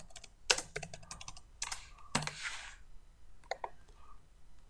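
Keys clatter on a computer keyboard as a value is typed into a spreadsheet cell, a few quick irregular bursts of clicks, quiet and close with no talk.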